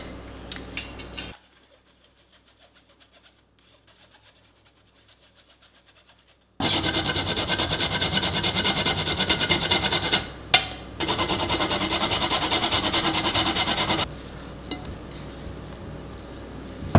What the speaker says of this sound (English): I like to grate fresh nutmeg every time.